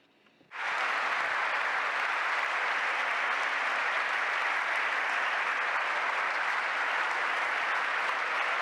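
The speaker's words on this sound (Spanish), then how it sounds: "los aplausos que estáis escuchando" A large audience bursts into sustained applause at a public talk on Italy, starting abruptly after a brief quiet moment and continuing as dense, steady clapping at full volume to the end, with no speech over it.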